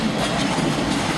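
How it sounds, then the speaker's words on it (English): A freight train rolls past through a residential neighborhood in South Dallas, a loud, steady rumble with clattering wheels filling the whole moment, no voices. "Look like this train is about to end. Yeah. It goes at amazing speed, doesn't it?"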